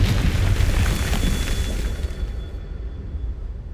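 The Confringo blasting spell from Hogwarts Legacy detonates with one loud, close boom that rolls off into a fading rumble over about three seconds, with no voices.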